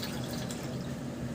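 Evaporated milk poured into a pan already holding jelly powder, cornstarch and water for a graham cracker dessert, a steady close liquid pour running without a break and no voices.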